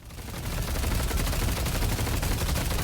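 A full magazine emptied in rapid automatic fire at the enemy patron in the video game Deadlock, played as Haze: dense, continuous, loud gunfire with shots blurring into a steady roar for the whole stretch.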